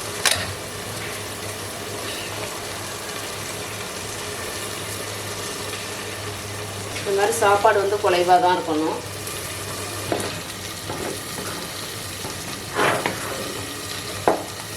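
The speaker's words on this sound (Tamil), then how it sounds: "இப்போ அடுப்பு ஆஃப் பண்ணிவிட்டு கீரை கூட சேர்த்து நல்லா கலந்துக்கலாம்" Cooked rice being stirred together with spinach greens in a pot after the stove is switched off, with soft scraping and mixing sounds during a home cooking routine, under a low kitchen hum and someone talking.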